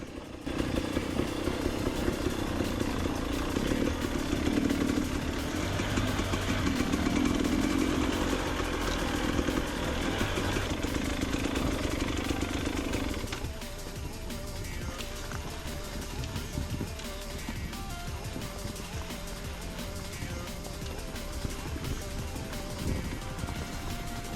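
A KTM EXC 300 enduro motorcycle engine runs steadily on a long downhill trail in the Carpathian mountains near Kosmach, a loud continuous drone that drops in level partway through, with clattering from the rough ground.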